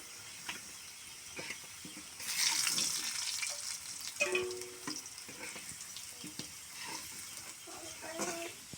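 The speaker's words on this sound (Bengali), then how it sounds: "এই যে আলুগুলোকে আমি লাল লাল করে ভেজে নিচ্ছি, আগে তেল দিয়ে তারপরে ভেজে নিচ্ছি" Potatoes frying in oil until reddish-browned, a broad steady sizzle that swells louder midway, with occasional spatula scrapes and clinks, close, no clear talk.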